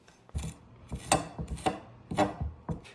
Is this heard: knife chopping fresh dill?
yes